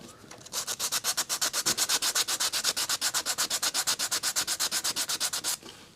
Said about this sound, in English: when you're sanding something like that